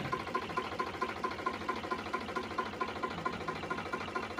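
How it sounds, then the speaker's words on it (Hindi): A Sonalika DI 35 tractor diesel engine runs at a steady idle, a loud, even rhythmic knocking thrum with regular pulses throughout, heard close up. "ट्रैक्टर को हम वीडियो में चालू करा करके भी आपको दिखा रहे हैं"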